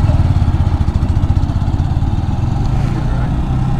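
Close and loud, a Honda Grom motorcycle engine chugs in an even low-pitched rhythm, easing slightly toward the end, with no one talking.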